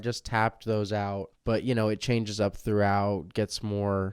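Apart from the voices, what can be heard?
No distinct noise like a dog, phone or traffic.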